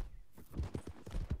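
A horse walks in Red Dead Redemption 2, its hooves clip-clopping in a steady, close rhythm of soft thuds with no talk over it.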